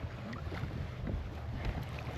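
A sailboat moves slowly in light wind of about seven knots, making five knots near the Calanques of Marseille. Soft, steady wind and water wash hiss close to the microphone, with no voices.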